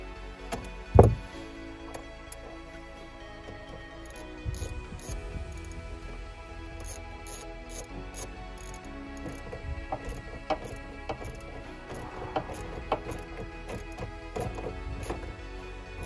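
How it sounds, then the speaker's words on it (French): A 10 mm wrench reconnects the battery terminal on a BMW, with faint metallic clicks and ratcheting taps spread across the clip, one sharp knock near the start, quiet and close with no talk. "Dernière étape, rebrancher la batterie avec la clé de 10."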